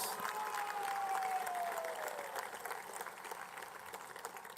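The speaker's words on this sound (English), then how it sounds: "Please give the leadership of our party and the supporters a resounding round of applause." Supporters at the swearing-in and inauguration of Guyana's president applaud their party leadership, a dense, fairly quiet wash of clapping that stays even and then eases slightly toward the end.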